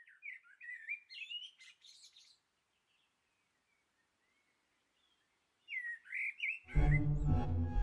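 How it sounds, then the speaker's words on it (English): A mutated bird in the video game Fatum Betula chirps and tweets in bright, clear bursts, then goes quiet, then chirps again before a loud low rumble cuts in. "The bird has mutated."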